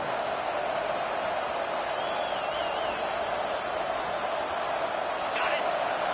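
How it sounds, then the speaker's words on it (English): Stadium crowd at a Texas A&M football game, a steady dense roar of cheering and noise while the home defense holds in the red zone, continuous and broad with a commentator's voice faintly over it. "Now the crowd responding in the red zone, trying to help this defense."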